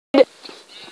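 Sheep in the Minecraft video game let out a short, loud bleat near the start, followed by softer game ambience and faint background voices.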